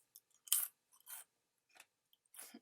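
Cheddar bunnies and goldfish crackers crunched in close, separate bites, with five or six short, crisp chewing bursts and near silence between them.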